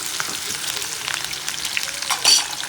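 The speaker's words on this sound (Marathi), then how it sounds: "टोमॅटोसुद्धा मी थोडेसे तेलामध्ये परतून घेते" Tomatoes fry in hot oil for a Solapuri chicken rassa, giving a loud, constant sizzle up close with light stirring noises and a sharper burst of spitting toward the end.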